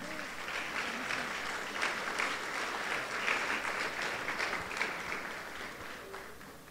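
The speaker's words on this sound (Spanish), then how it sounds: "Y yo pienso que eso es un aplauso para ustedes" Audience applause at a Costa Rican education-sector gathering, steady and dense clapping from a sizeable crowd throughout, with faint voices underneath.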